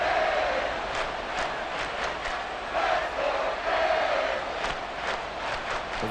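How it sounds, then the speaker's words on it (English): A stadium crowd in the video game Madden NFL 24 roars continuously, loud and dense, swelling in waves as fans try to force a false start near the goal line. "This crowd trying to force a false start here."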